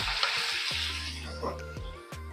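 Cumin, garlic and chopped curry leaves sizzle in hot oil for tempering, a bright continuous crackle close by with a few stirring clinks and scrapes.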